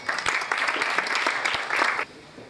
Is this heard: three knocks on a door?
no